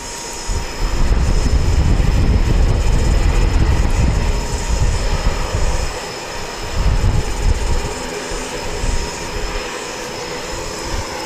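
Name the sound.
ATR turboprop aircraft from Hamilton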